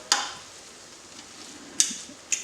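Ghanaian jollof rice with goat meat is stirred in a pot: three brief scraping strokes of a spoon against the pot, close by, with a quiet low simmer between them.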